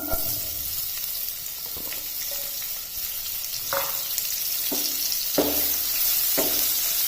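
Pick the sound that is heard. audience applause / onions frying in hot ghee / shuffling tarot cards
onions frying in hot ghee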